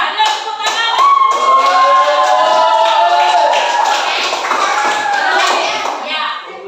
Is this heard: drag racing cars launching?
no